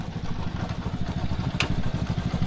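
A motorcycle engine runs close by at a steady idle, giving a rapid, even low putter with light mechanical clatter and one brief sharp click partway through.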